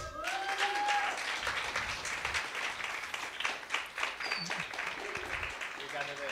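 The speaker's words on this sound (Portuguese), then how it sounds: "eu quero que vocês recebam, com uma salva de palmas, com muita alegria, o nosso querido irmão Arthur" Church congregation breaks into sustained applause welcoming a brother named Arthur, dense clapping throughout with a voice speaking over it and brief organ or keyboard tones near the start and end.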